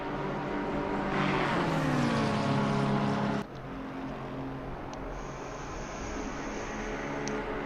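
Race cars lapping Spa through Eau Rouge in a simulated 24-hour endurance race, a loud close engine howl rising in pitch, then dropping abruptly as another car's tone continues steadily.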